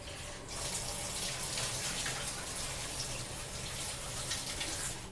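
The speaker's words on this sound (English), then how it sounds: "So we have our salad, our lettuce, and our spinach. I'm going to rinse this and drain it." Tap water runs steadily over lettuce and spinach leaves being rinsed at a kitchen sink, a continuous close splashing gush that starts after a brief moment and carries on throughout.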